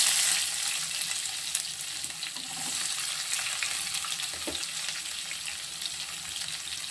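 Onions frying in oil in a pan for a bottle gourd and moong dal kootu, a steady close sizzle and crackle running throughout with no voices.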